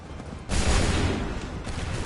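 A musket volley fired by soldiers in Assassin's Creed III crashes out as one loud, dense burst of many overlapping shots, followed by a rumbling, decaying tail with scattered lighter cracks.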